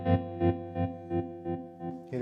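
Electric guitar chord pulsing through a Chase Bliss Gravitas analog tremolo pedal with sway fully left, giving seven evenly spaced, choppy swells that fade each time, like a synth gate, before a new chord is struck.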